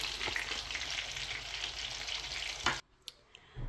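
Tilapia frying in hot oil gives a loud, continuous crackling sizzle that cuts out abruptly near the end, followed by a couple of faint clicks before the sizzle returns.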